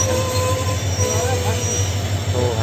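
A train at a railway station, with loud, steady rumble and high, sustained squealing of wheels on the rails close by and filling the whole moment.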